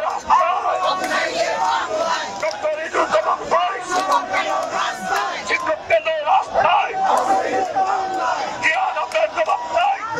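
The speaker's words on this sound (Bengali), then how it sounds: "তারা এখানে সড়ক অবরোধ করে তারা স্লোগান তুলছেন" Protesting non-MPO teachers who are blocking a road chant slogans loudly and steadily as a large crowd. Shouted voices overlap continuously, with crowd noise underneath.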